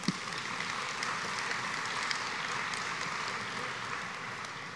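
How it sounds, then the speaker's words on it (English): Applause from a large church conference assembly of United Methodists fills the room as a steady, dense wash of clapping, moderately distant, with no talk over it. "Applause, applause."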